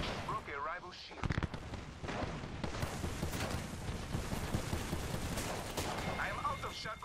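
Sustained gunfire rattles through an Apex Legends fight, with sharp shots and dense bursts layered over constant battle noise, close and loud throughout, while a voice talks briefly near the start and near the end.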